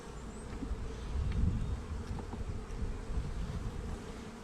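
Honey bees hum steadily around an open hive during a nuc-making inspection, a dense continuous buzz with individual bees droning close by and a low rumble beneath, no voices.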